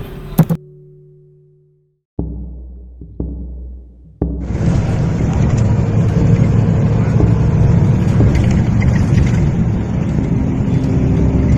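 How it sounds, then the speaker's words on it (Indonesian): Bus pulling away from the Surabaya bus terminal near the harbour: a few heavy clunks, then a loud, steady low engine rumble that continues to the end, with no talk. "Tidak berselang lama kami masuk, bus pun langsung berangkat."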